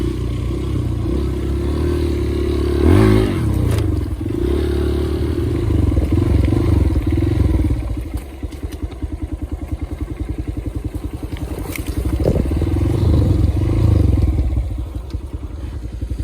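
A child rides a mini motorcycle, its small engine puttering steadily up close, rising and easing in loudness with a few clattering knocks and a choppier idle-like stretch midway.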